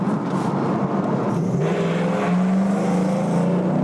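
Mercedes W124 E500 sedan with a loud aftermarket exhaust, a deep rumbling V8 drone that rises and swells as the car pulls away nearby, steady and unbroken, with no talk over it.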